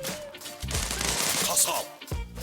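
Dense bursts of rapid automatic gunfire from a light-machine-gun-style weapon in the Zula Mobile shooter game, loud and close, firing in a few sustained strings with brief pauses between them.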